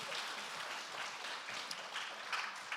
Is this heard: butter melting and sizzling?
no